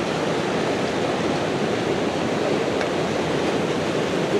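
Freezing-cold river water on a mountain hike near Musala, Bulgaria, rushing steadily in a dense, continuous broadband roar close by, with no voices.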